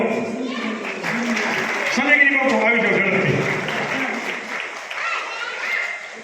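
Audience applause honouring an acharya at a religious gathering, moderate clapping running under a voice calling someone forward, fading toward the end.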